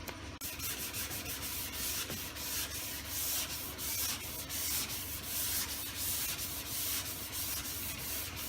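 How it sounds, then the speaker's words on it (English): Steady hand sanding of a car body panel with 400-grit paper, continuous close scratchy rubbing strokes running back and forth with no pauses. "we're sanding up to the peaks."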